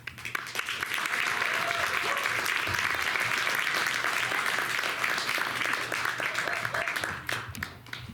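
An audience at an MFA final thesis reading claps steadily for several seconds, a dense, even roar of many hands that fades slightly at the end.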